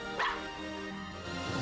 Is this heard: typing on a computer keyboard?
no